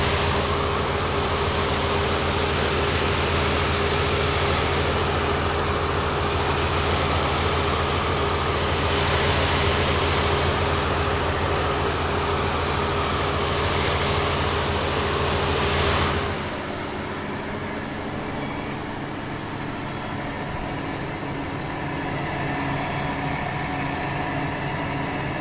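An LG washing machine runs with its door wide open, giving a steady loud mechanical hum and rumble that drops and changes character partway through as the drum cycle shifts, with no talking.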